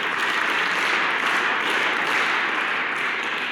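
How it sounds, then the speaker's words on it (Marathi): A seated audience at a talk breaks into dense, steady applause that holds at an even level throughout, with no voices over it. "भरपूर टाळ्या वाजवा"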